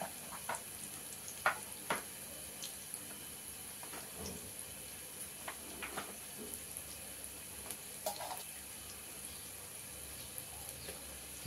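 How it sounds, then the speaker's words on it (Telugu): Lentils frying in oil in a pan for lemon rice, with a soft continuous sizzle and scattered scraping clinks as they are slowly stirred, fairly quiet and without any voices. "నిదానం కలుపుతూ ఉండాలండి, లేదంటే అడుగు మాడిపోద్ది."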